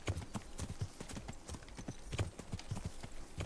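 Horse hooves clop quickly and rhythmically at close range in the medieval game Kingdom Come: Deliverance, with a steady trotting beat and no talking.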